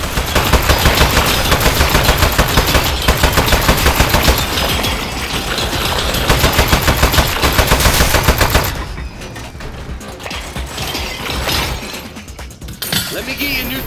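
Turrets firing in the video game Aperture Desk Job, a rapid loud stream of machine-gun shots with glassy shattering, continuous for several seconds before dropping to quieter game sounds.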